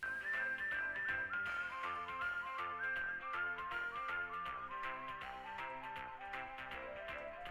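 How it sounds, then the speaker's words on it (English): A synthesized melodic whistle from the Space Quest II VGA game soundtrack, played through MT-32 or Sound Canvas hardware, runs as a steady stepping tune over a rhythmic backing with no talking. "Can someone tell me if this whistle is from the MT32 or sound canvas?"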